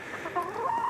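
A hen with frostbite on her comb and wattles clucks close by, making a short run of soft rising and falling calls over steady background hiss with no talking.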